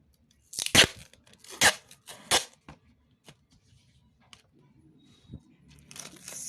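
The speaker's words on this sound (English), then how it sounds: "So now let's tape it." Tape is ripped off a roll in several sharp, loud tearing bursts, then pressed onto a paper Oreo squishy with softer crinkling, close up, no voices.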